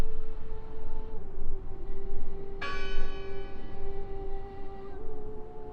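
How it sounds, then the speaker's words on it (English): A single bell strikes once in the video game Draugen, a clear ringing tone that rings out and slowly decays over a steady low ambient drone, with no one talking. "I heard the bell."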